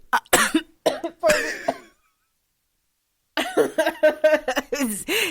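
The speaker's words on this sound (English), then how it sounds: "Me coughing." Several close, harsh coughs in a quick cluster, a brief silence, then another burst of coughing and throat sounds.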